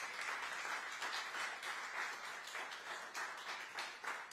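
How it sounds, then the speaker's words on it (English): Applause from an audience at a town hall event for the act Quilt, a steady dense patter of clapping held at moderate distance for several seconds. "Can we get a round of applause for Quilt?"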